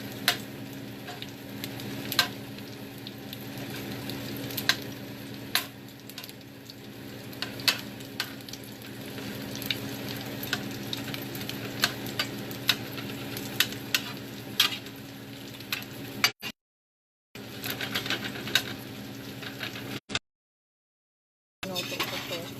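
Last night's leftover food reheating in a frying pan for breakfast, with a steady close sizzle and crackle, sharp ticks and scrapes of stirring, and two brief silent gaps near the end.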